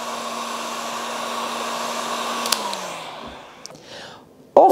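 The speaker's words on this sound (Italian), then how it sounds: "Il phon termico o il phon molto caldo per i capelli sicuramente aiuta e migliora." A hot hair dryer blows steadily on freshly applied decorative mouldings on a painted chest of drawers, a close, even whir that winds down and cuts off, followed by a brief knock.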